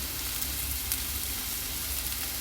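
Onion sautés in a pan with green chili and dal while fish patties are being made, a continuous soft sizzling hiss that stays even throughout with faint crackles and no talking.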